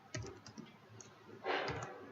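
Light typing on a computer keyboard, a quick run of soft clicking keystrokes close by, ending in a slightly louder cluster of taps, with no talking.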